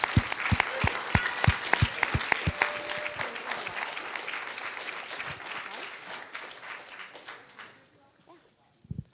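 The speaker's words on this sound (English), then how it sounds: "I just want to give a round of applause to our amazing panelists" An audience applauds student panelists at a spring climate summit, opening with a few distinct claps before swelling into a sustained round of clapping that tapers off, with some talk underneath near the end.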